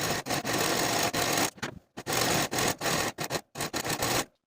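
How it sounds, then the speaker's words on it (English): A serger sews the side seams of a dress, running in loud bursts of rapid mechanical stitching that stop and restart several times, with short quiet gaps between runs and no talking. "Serge both of the side seams for the front piece and both of the side seams for the"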